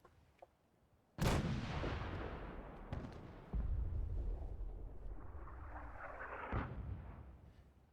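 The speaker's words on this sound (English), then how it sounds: "Nice thing about the artillery is it kind of gives some nice coverage all dotted around." Artillery fire in Fallout 4 booms out loud, with a big blast that rumbles away and then more heavy shots and explosions following, rolling and dense across the whole stretch.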